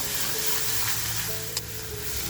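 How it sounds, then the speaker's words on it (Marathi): Coarse-ground coconut masala for Malvani bombil curry sizzles and crackles in a hot pan, a continuous close hiss with a small clink of stirring. "आणि आपल्याला हा मसाला अगदी खमंग परतवून घ्यायचा आहे."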